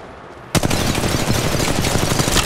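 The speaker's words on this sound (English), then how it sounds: "I am taking fire." Rapid automatic gunfire in the battle royale game Apex Legends Mobile: loud, dense bursts of shots rattle on without a break after a sudden start.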